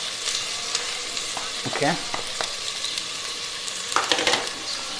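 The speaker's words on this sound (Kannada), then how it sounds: "ನಾನು ಇವಾಗ ಆನಿಯನ್ ಹಾಕ್ತಾಯಿದ್ದೀನಿ" Chopped onions sizzle and crackle in a hot pan as the base for a homemade chicken curry, with steady frying, a few stirring scrapes and a brief spoken word.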